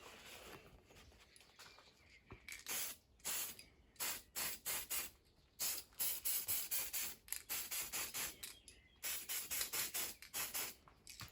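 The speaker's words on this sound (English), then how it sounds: "I'm just going to give it a slight fog, let that settle, and then spray it again" Black paint is sprayed from an aerosol can onto a scale truck body, the Proline FJ40 Cruiser, in repeated short hissing bursts of about half a second to a second, separated by brief pauses, close and clear.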